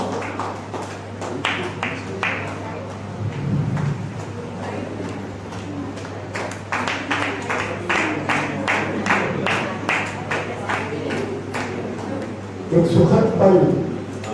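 Scattered audience clapping at a Hindi literary honouring ceremony, sparse sharp claps that come and go under a steady hum, with talk in between and a brief louder swell near the end.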